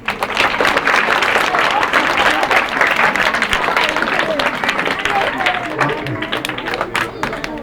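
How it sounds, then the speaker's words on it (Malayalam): A church gathering applauds its vicar with loud, sustained clapping from a crowd that fills the whole stretch. Faint murmurs and voices run underneath, and the clapping thins slightly near the end. "ആച്ചൻ ഇപ്പോഴത്തെ വികാരി ജോയി അച്ഛൻ വേണ്ടി നമുക്ക് നല്ലൊരു കയ്യടി"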